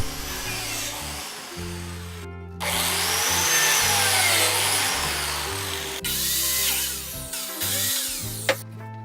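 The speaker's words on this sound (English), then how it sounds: "Now I'm cutting some biscuits to aid in alignment while it's being glued up." A biscuit joiner cuts slots into a wooden Arts & Crafts porch column in several loud bursts: a high whining spin-up, a rough bite into the wood, then pauses and a final brief pass, close and with no voices.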